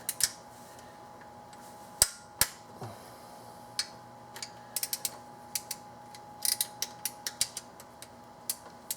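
A torque wrench tightens water pump bolts on a Dodge Ram 5.7L, giving sparse, sharp ratcheting clicks and ticks at irregular intervals over a quiet workshop hum.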